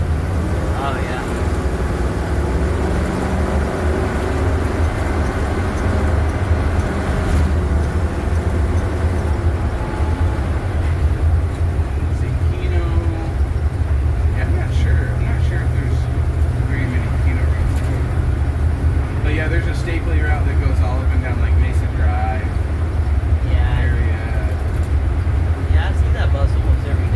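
A crowd of loud kids chattering and shouting aboard a moving bus, their voices blending into a constant din over the steady low rumble of the engine and road.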